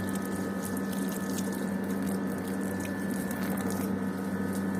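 Steady patter and hiss of water sprayed onto a cloth curtain hung in a garden to cool the air, a continuous close spray with a low pump-like hum underneath and no talking.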